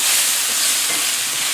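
Chipotle steak and onions fry in a pan with a loud, steady hiss of sizzling oil, a dense continuous crackle with no pauses, heard up close.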